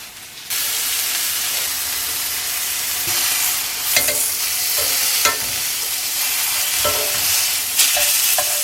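A steak sizzles loudly in a hot pan right after being flipped, a dense, steady close hiss with brief sharper crackles and spatters bursting through, no voices.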